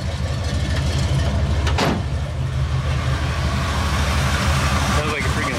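A 1969 Chevrolet Impala engine with an Edelbrock cam, 3-inch dual exhaust and Summit Racing mufflers rumbles steadily up close with a deep, loud idle throughout.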